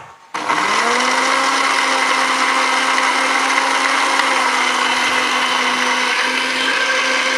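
Blender switched on and running steadily, crushing a mixture for koi treatment; a loud, even whirring motor hum that starts abruptly and holds for several seconds alone.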